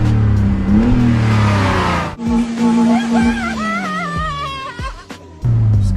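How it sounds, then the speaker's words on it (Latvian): A BMW E46 running after an engine swap, close idle with a couple of revs that rise and settle, interrupted by a short whirring change in tone, with someone speaking over part of it. "Nu, mašīna skan vienkārši perfekti."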